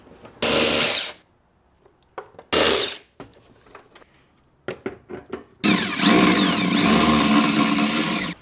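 A power tool spins out the 12mm bolts holding the air box of a Toyota 4Runner, running in three loud bursts: two short ones, then a longer sustained run, with softer clanks and handling noises between them.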